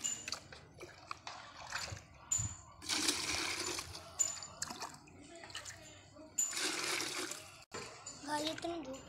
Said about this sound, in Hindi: थोड़ा गर्म पानी डाल लेता हूँ